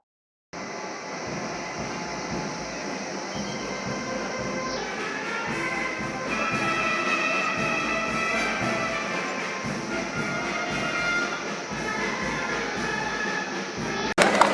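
A parcel train hauling apples and other fruit rolls past with a steady, continuous rumble and clatter of wagons, loud and close throughout, with no voices over it.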